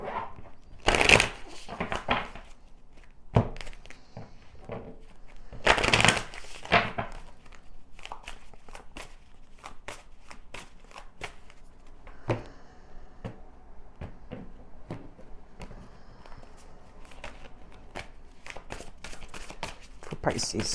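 Tarot cards are riffled and shuffled in a few bursts of crisp fluttering, separated by quieter handling and soft rustling.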